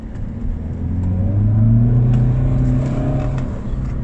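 A BMW E46 320d diesel revs hard and holds high engine speed during a smoky burnout, a steady, loud mechanical drone that rises and then eases slightly near the end, with no talking.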